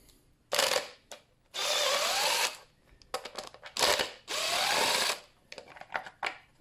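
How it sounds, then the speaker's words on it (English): An impact wrench removes screws from a plastic-mounted cover on a 1975 Evinrude 9.9 hp outboard, buzzing and hammering in several loud bursts of about a second each, separated by short pauses. "I know I'm using an impact, but that's just me."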